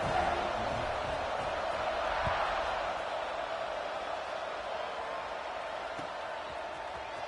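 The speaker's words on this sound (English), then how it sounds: "this crowd is buzzing after that last score" Stadium crowd from a college football video game, Arkansas versus Michigan, buzzing after a score: a steady, dense roar of many voices holding at an even level throughout.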